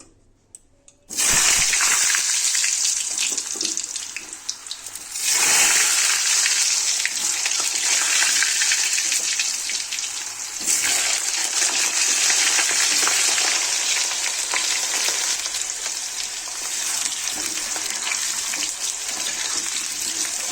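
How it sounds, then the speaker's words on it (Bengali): Potatoes fry in hot oil with a loud, steady hiss that starts abruptly, briefly dips around five and ten seconds, then carries on unbroken, with no talk. "চলো এবার আলুগুলো ভেজে নিই"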